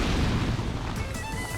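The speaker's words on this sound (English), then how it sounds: "roll this barrel towards the wall, and it explodes, letting us in." A barrel rolled into a wall in Dark Souls 2 detonates with a loud, sustained boom and crumbling crash, the rumble thinning into a rattling tail of debris.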